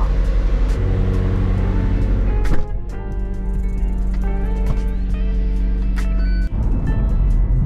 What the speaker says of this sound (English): can you hear the car go?